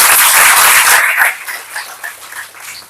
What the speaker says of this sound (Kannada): ಎಲ್ಲರೂ ಜೋರಾಗಿ ಚಪ್ಪಾಳೆ ಹೊಡಿಬೇಕು